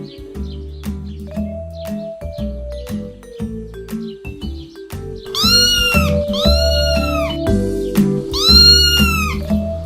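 A cartoon cat chasing a mouse meows loudly several times in drawn-out, rising cries over a steady musical background, with the calls growing stronger toward the end.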